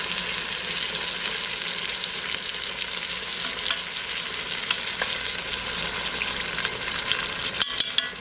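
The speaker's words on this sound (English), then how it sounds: "Stir it around just a little bit." Salsa chicken in an Instant Pot gets a brief stir, a steady close sizzle-like hiss with soft scraping and a few sharp spoon clicks near the end.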